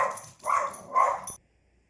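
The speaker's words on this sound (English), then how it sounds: "My dog heard another dog barking." A pet dog barks indoors in a sudden burst, three loud yelping barks in quick succession after hearing another dog, then falls silent.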